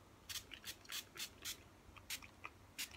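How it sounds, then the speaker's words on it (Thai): A series of short, hissy moisturizer mist spray bursts on a face, about eight in three seconds, coming at an uneven pace, close and fairly quiet. "แล้วก็ฉีดสเปรย์"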